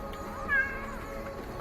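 A single short cat meow rises briefly mid-clip, fairly faint and set against a steady indoor room hum with no talking.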